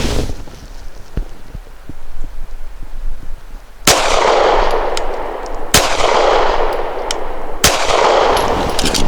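A Walther Q5 Match steel-frame pistol fires Speer Lawman 147-grain subsonic rounds outdoors: three loud, sharp shots spaced about two seconds apart, each with a ringing decay, over wind noise at the microphone.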